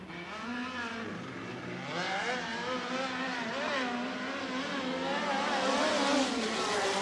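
A USAC midget race car engine howls around Merced Speedway, its pitch rising and falling as it revs through the turns, steady and fairly loud with no break.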